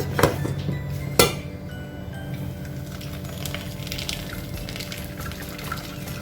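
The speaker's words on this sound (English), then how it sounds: "I'm gonna bring forth my pot with my strainer, and I'm gonna strain my juice" Beetroot and cucumber juice strained through a strainer into a pot, opening with a couple of sharp metallic clinks. A soft pouring trickle and light kitchen clatter follow.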